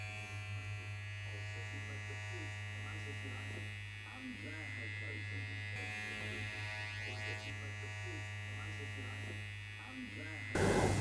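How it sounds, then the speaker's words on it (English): An electric hair clipper fitted with a number 1 guard, lever fully open, hums steadily while blending a taper fade on full Afro hair, with a low voice speaking faintly under the buzz. "I will now go back to using my number 1 guard with the lever fully open and refine the blend"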